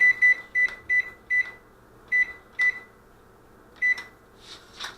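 A kitchen oven emits a series of short, clear electronic beeps, some in quick pairs, as it is set to preheat to about 450 degrees, close and distinct against a faint hum.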